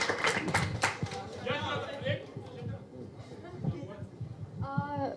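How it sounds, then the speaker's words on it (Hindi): Audience at a book launch for a novel, with stars on stage, breaks into scattered clapping mixed with crowd chatter and talk, fairly close and moderate in volume, fading in and out. "चलो इस पे तालियां।"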